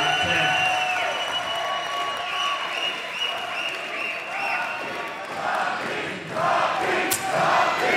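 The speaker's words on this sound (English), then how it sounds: "You gotta get some of this crowd." A crowd at a 2005 US Open racquetball semifinal claps and cheers loudly and continuously, with a swell near the end and a sharp ball or wall hit, while a commentator talks over it.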